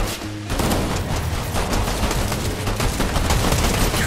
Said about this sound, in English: We all just opened fire!